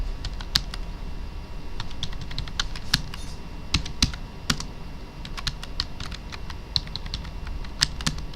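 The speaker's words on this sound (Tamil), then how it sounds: "டிக்ளரேஷன் கொடுத்துட்டு இந்த 2 சென்டென்ஸை டைப் பண்ண வேண்டியது" Steady typing on a computer keyboard while entering a declaration in a Word bio data document, with crisp, irregular key clicks close up and no talk.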